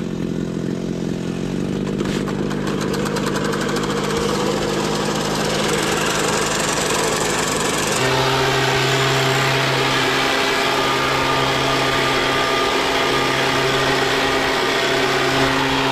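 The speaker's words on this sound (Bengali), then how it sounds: "এখন আমরা মেশিন দিয়ে চা পাতা কাটাই" A petrol-powered tea leaf cutting machine runs continuously in a tea garden, its loud buzzing engine drone steady throughout, shifting to a lower, smoother hum about halfway.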